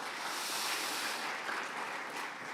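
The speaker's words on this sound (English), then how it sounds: "A round of applause for that," Applause at a council meeting, a steady wash of many hands clapping across the room, fairly soft and continuous throughout with no talk over it.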